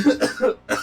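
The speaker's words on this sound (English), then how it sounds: "I start to cough." A person coughs several times in quick succession, a burst of rough, close coughs with a short pause before a final one.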